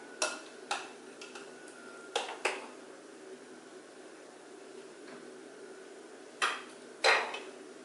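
A spoon clinks and scrapes against a pot or bowl in a home kitchen, with a few scattered sharp metallic taps and brief scraping bursts, close and fairly quiet, with no talking.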